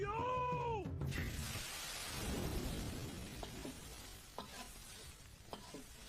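Oil pours into a hot pot over a high flame and lard sizzles loudly, settling into a steady broad hiss with a few sharp pops and clinks near the end, while someone talks briefly at the start.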